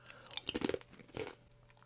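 Crisp plantain chips, a Puerto Rican snack, crunch between the teeth in a quick cluster of close bites followed by one more crunch, fairly quiet and with no talking.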